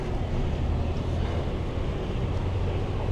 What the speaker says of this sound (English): And then this water truck.